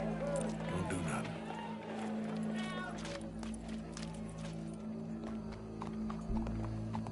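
Horse hooves clopping and movement in the video game Red Dead Redemption 2, quick irregular hoofbeats under a low hum, with voices talking over them and a faint crowd.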